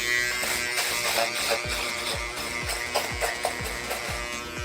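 Electric hair trimmer or shaver buzzing steadily and close during a skin fade haircut, with repeated rubbing strokes and small bumps against the head.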